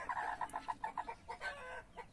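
A blue-egg-laying hen, broody and sitting, gives a run of low, evenly spaced clucks up close, then a looser, busier stretch of cackling toward the end, with no talk over it.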